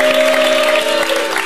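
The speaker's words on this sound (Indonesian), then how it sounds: "Buat tepuk tangan dulu dong buat Umi" A studio audience on a television show claps for Umi, a brief, loud and steady burst of applause with a sustained tonal hum beneath it.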